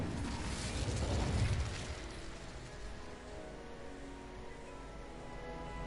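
A fire spell is cast in Hogwarts Legacy: a loud whooshing, roaring burst builds over the first second or two, then fades into a lower, steady rumble of game ambience that runs to the end.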